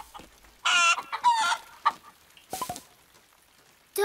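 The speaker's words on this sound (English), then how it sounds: "Don't worry, Mrs. Hen." Cartoon hen in a barn during a rainstorm, giving a few loud, close bursts of clucking and squawking, separated by short quiet gaps.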